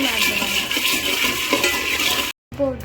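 Urad dal and chana dal roasting in a pan, a steady dense crackle with stirring scrapes and utensil clinks throughout, cut by a brief silent gap near the end before the sizzle resumes.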